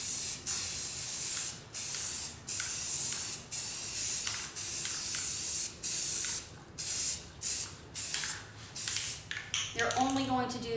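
Spray primer hissing from an aerosol can onto a back plate in repeated short bursts, each blast a second or so long with brief gaps, close and fairly loud, with a few squeaky sounds near the end.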